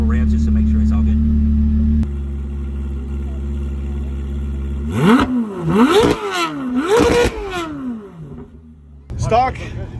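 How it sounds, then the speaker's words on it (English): A C8 Corvette Z06 engine idles steadily, then revs sharply several times in quick rising and falling bursts, loud and close. "just if you'll give us a couple revs just to make sure it's all good"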